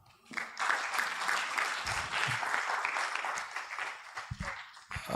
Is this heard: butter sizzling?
no